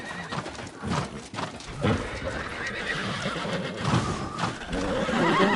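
An armored, horned horse in the video game New World: Aeternum neighs and whinnies loudly up close, its calls layered over clip-clopping hooves and busy in-game ambience.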